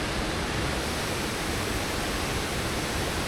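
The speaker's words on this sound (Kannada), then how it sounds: "ಫಾಲ್ಸ್ ನೋಡ್ರಿ ಮ್ಯಾಲಿಂದ ಬೀಳ್ತೈತಿ" The Mattigatta waterfall in Uttara Kannada roars steadily as water falls from above, a loud, unbroken broadband rush heard alone without any voices.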